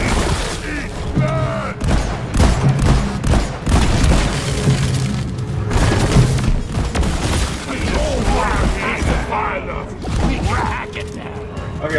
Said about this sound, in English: Who the fuck is shooting me?